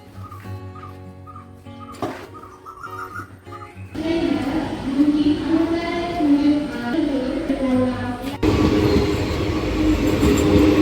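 A dog whimpers briefly, then a train rumbles loudly past with a steady rolling roar and rhythmic clatter that carries through to the end.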